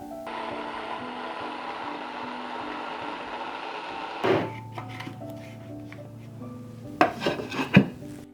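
Grain mill grinding hard white wheat and Khorasan kamut, a steady whirring drone for about four seconds that stops abruptly, followed by brief clatters and knocks of handling nearby.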